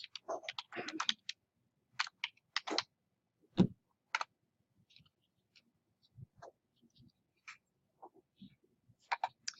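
Computer keyboard typing and mouse clicks while renaming a spreadsheet tab in Excel, sparse separate taps and clicks spread across a quiet stretch, close and fairly soft.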